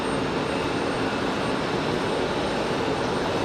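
A Cessna Citation Latitude business jet at Raleigh-Durham airport gives a steady, moderately faint broadband jet rush with no distinct change across a few seconds, alone with no voices.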